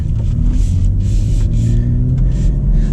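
Inside a BMW X3 M Competition pulling away, a loud, steady low engine drone and road rumble fill the cabin, with no speech over it.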